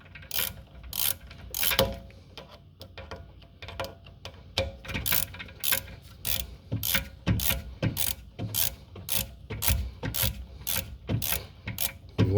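A hand ratchet clicks in quick, even runs as it retracts the rear brake caliper piston on a 2020 BMW X3M Competition, with close, crisp pawl clicks and brief pauses between strokes.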